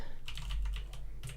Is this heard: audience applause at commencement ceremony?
no